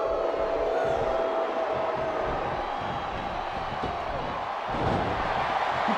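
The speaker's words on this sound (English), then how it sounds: "Sounds like this crowd's got something on their minds, King." A wrestling arena crowd in WWE Smackdown vs Raw 2007 keeps up a broad, steady roar, with a few thuds from the ring rising out of the noise.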